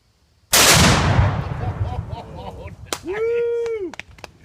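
A rifle shot sets off a Tannerite target while a locust tree is being felled outdoors: one sharp, loud crack-boom that rolls away into a long echoing rumble, and people call out afterward.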